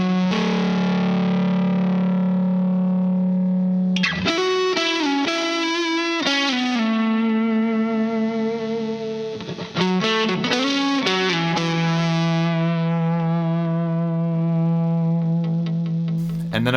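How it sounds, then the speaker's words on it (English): A Danelectro electric guitar at full gain runs through a Volbrook Spacetime version 2 echo pedal with all switches on, giving a loud, sustained, saturated tone with shifting chorused pitches and echoing repeats, played alone. "I brought up the gain all the way, I turned on all the switches, and I brought in a Volbrook Spacetime version 2 Echo"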